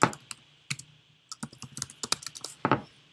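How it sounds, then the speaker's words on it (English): Computer keyboard typing, irregular bursts of crisp close key clicks with short pauses, quiet and alone. "and then start typing"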